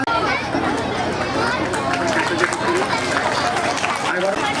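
An audience at a school silver jubilee programme keeps up steady, dense applause throughout, a continuous wash of clapping mixed with crowd chatter and voices.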